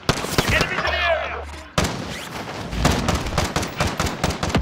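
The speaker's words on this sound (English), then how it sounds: "Yeah, I'm getting shot at." Rapid gunfire in Call of Duty: Modern Warfare, with dense bursts of shots and crackling impacts over game effects and voices, mostly close and continuous.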